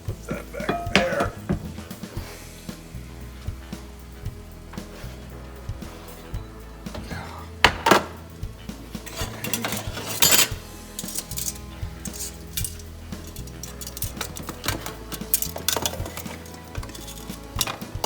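Kitchen clatter of a metal oven tray of garlic bread being pulled out, flipped and slid back in while seafood spaghetti cooks, with repeated clinks, scrapes and knocks at close range over a steady background hum.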